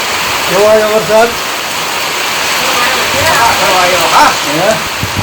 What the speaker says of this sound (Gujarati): કેવો વરસાદ થયો